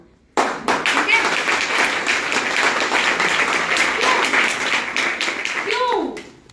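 An audience claps, sharp individual claps quickly swelling into dense loud applause that holds steady, then fades as a voice rises briefly near the end.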